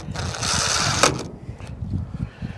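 A power driver whines loudly for about a second as screws go into a dump trailer cover, followed by low clattering handling noises and faint movement.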